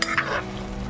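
A quick scrape of a spoon stirring through thick chicken gravy in a pan, over a soft background sizzle.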